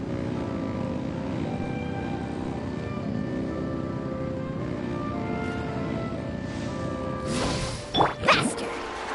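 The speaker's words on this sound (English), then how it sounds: "Rev the engines!" Boat engines in Genshin Impact drone steadily with rising harmonic tones, building in pitch, then a loud splashing crash and surging bursts near the end; no voices.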